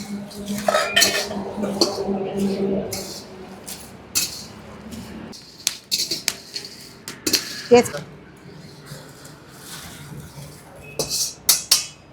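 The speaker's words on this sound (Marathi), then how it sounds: "आता आपण त्याच्यात तेजपान पण भाजून घेऊ." Whole spices and bay leaves are roasted and stirred in a metal pan for masala powder, with repeated scraping and clinking of a spoon against the pan, uneven bursts close by.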